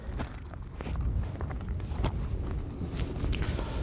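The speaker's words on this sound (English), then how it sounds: "I'm going to walk down this one." Footsteps walk steadily along a long outdoor walkway on a breezy day, with gusty wind noise buffeting the microphone throughout.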